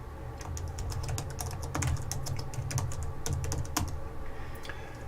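Someone types a password on a computer keyboard: a quick, uneven run of close, crisp key clicks that holds steady for several seconds, with no talking.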